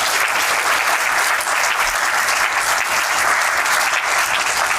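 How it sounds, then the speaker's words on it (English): A loud, sustained round of applause from a seated audience at a summer institute event, dense and even throughout with no voices over it. "I think we should all give Dr. Charles Small a round of applause for this great Summer Institute."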